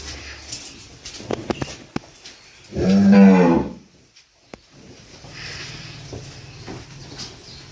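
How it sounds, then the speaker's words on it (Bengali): A calf on a family dairy farm gives one loud, drawn-out moo in the middle, preceded by scattered knocks and clatter and followed by quieter background rustling, with no talking. "বাছুর এত ডাকতেছে, মাথা খারাপ করে দিচ্ছে বাছুর ডাকতে ডাকতে"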